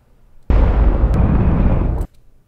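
A missile launch explosion in the Fortnite battle royale video game, heard as one loud, sustained roaring blast lasting about a second and a half before cutting off abruptly, with no voices over it.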